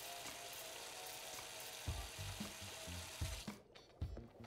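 Pans are washed under running water at a kitchen sink in the Chef Life restaurant simulator game: a steady hiss of the tap, broken by a few clattering knocks from the pans, before the water cuts off.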